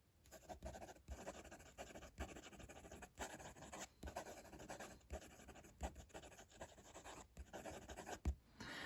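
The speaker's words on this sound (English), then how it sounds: "Quick writing." A Wancher Sekai World Tree sandalwood fountain pen moves quickly over paper, making close, soft scratchy strokes in a steady rapid rhythm with brief pauses between word groups, and no one talking.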